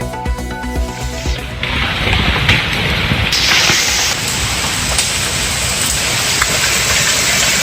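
Heavy, continuous rain pours down in the Nilgiris district during days of landslides, a loud, dense hiss of water that never lets up across the whole stretch.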